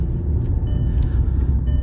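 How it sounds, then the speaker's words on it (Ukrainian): A 2013 Volkswagen Passat with a 2.5-litre petrol engine accelerating, heard as a steady, loud low-frequency engine rumble that holds at a constant level throughout. "Автомобіль добре розганяється"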